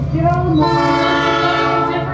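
A passing train sounds its horn close by, a loud sustained chord over the rumbling roll of the wagons, with no talking.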